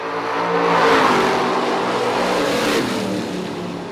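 Drag race cars launch down the strip at a footbrake race, a loud sustained engine roar that builds, holds and then gradually fades as they pull away.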